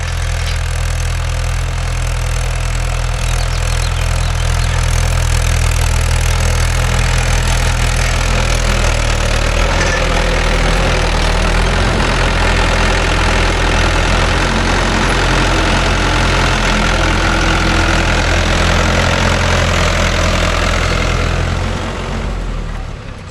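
A Mahindra 575 DI tractor engine idles in farmland with a cultivator attached, a loud, steady low throb with a knocking diesel rumble that runs continuously and fades slightly at the very end.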